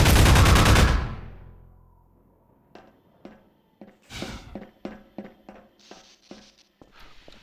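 Gunfire in Half-Life 2: a heavy burst at the start fades out, followed by a string of sharp separate shots and clicks in an uneven rhythm, close and clear.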